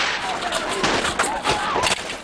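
Rapid bursts of gunfire in a 1985 ninja action film, Nine Deaths of the Ninja, sharp repeated shots rattling over a busy mix of sound effects and background voices.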